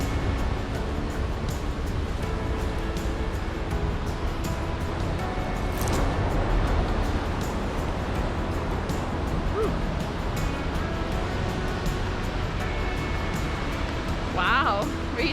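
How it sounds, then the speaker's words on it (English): A waterfall on the Winner Creek Trail in an Alaskan temperate rainforest gives off a steady, full roar of rushing water that fills the whole clip, loud and unbroken, with a voice speaking briefly over it. "There's the edge of the waterfall."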